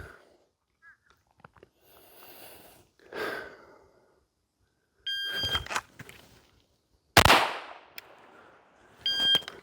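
A pistol shot fired during a 5-4-1 shooting drill, one sharp loud crack standing alone with faint handling and breathing sounds around it.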